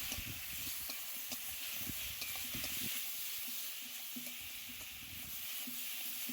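Ridge gourd, potato and prawn curry sizzles and crackles steadily in a pan as it is stir-fried, with intermittent scraping stirs and a constant hiss throughout, no voices.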